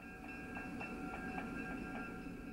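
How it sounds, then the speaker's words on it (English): A three-car train of bi-level commuter cars on the Chicago and North Western Railroad pulls out of Northwestern Station in Chicago, with a steady rolling rumble, repeated wheel clicks over rail joints and a faint high whine, heard alone. "A three-car train of bi-level commuter cars on the Chicago and Northwestern Railroad is departing Northwestern Station"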